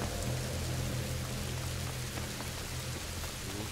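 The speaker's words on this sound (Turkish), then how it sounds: "Yağmur yağıyor, fırtına var." Steady rain and storm ambience from the video game A Plague Tale: Innocence at night, a dense even hiss of rainfall with a low rumbling hum underneath, continuous and fairly loud throughout with no talk.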